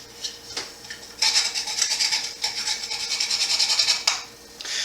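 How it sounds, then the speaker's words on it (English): Nutmeg rasps against a grater over a pot of chicken fricassee, starting with a few short strokes and then settling into steady rapid scraping close to the microphone, clear and without talk. "gotta grate the nutmeg over it."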